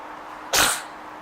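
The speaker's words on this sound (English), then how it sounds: "Very sneezy today." A baby lets out a single short, breathy sneeze, close and clear against a quiet background.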